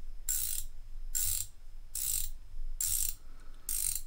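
Gearwrench ratcheting wrench being swung, five evenly spaced bursts of fast, crisp metallic clicking heard close and fairly quiet, with faint low rumble between.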